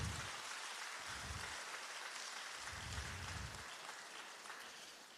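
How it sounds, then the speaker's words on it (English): An audience at the PSN Garden City 2021 opening ceremony applauds, producing a steady, even wash of clapping that holds for several seconds and slowly fades. It sounds fairly distant and soft, with no voices. "round of applause."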